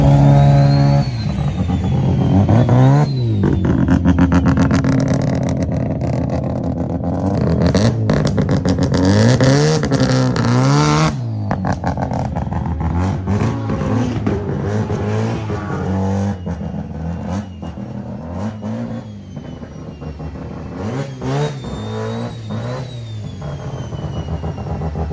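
A 500 hp 12A rotary-engined car lapping a circuit, its engine loud and close throughout, revving up and down through gear changes with a raw buzzing rasp and repeated surges of acceleration.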